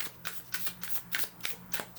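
A rose petal tarot deck is overhand shuffled close by: quiet, crisp card slaps repeat in a steady rhythm of about three or four strokes per second, with no talking.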